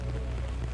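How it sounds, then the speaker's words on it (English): Rain patters steadily on a surface nearby, a dense low hiss of drops throughout a brief moment. "Oh no, it's raining."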